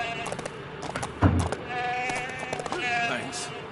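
Goats bleat loudly in Lego The Hobbit, several wavering cries following each other close up over a busy game background.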